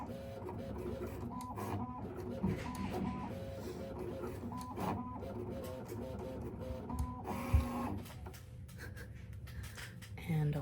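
A LOKLik iCraft cutting machine cutting vinyl, a steady mechanical whirr with repeating stepped motor tones and carriage movement, running continuously at close range with one brief clunk near the end.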